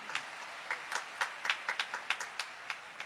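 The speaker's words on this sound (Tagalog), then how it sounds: "dapat pumalakpak tayo sa ating mahal na Panginoon" A church congregation claps in a steady, evenly spaced rhythm, about a dozen crisp claps, moderately distant and fairly quiet with no talking.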